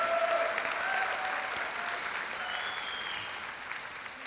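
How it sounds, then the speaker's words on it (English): Applause from the audience at an elementary school's fifth-grade graduation fills the room in a broad, even wash of clapping, with a few faint voices mixed in. "Let's give them another round of applause."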